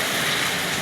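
Hail pelts down across an open field of young sweet corn plants in Tashkent, a dense, steady, loud hiss of countless impacts with no break and no voices.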